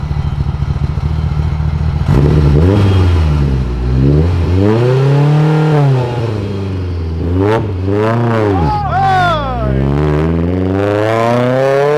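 Mitsubishi Evo tuned past 650 horsepower, its engine revving and accelerating hard through gears from inside the car, loud rising and falling engine tones with gear changes, close and dominant, with voices talking underneath.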